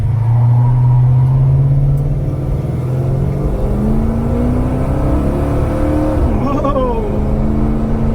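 A 1968 Dodge Charger R/T 440 with a 7.2-litre V8 accelerates hard from standstill to 100, a loud close engine roar climbing through the revs with a gear shift near the end, people talking over it.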